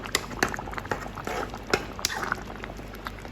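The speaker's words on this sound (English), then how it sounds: "I'm gonna stir this in" Beans being stirred into a simmering oxtail pot, with soft liquid bubbling and scattered light clinks and scrapes of a utensil against the pot, fairly quiet and close.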